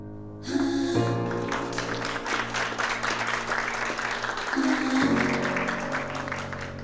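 An audience at a centennial kickoff event for a community charity breaks into sustained applause that swells and holds for several seconds, layered over sustained musical tones that change partway through.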